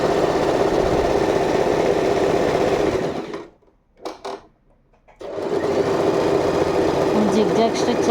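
An Usha sewing machine runs a zigzag stitch with a steady, loud mechanical whir. It stops briefly for a couple of seconds, then resumes at the same pace.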